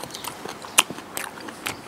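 Someone chews a crunchy raw young turnip, close crisp bites and crackling chews in quick uneven succession, with one sharp loud crunch.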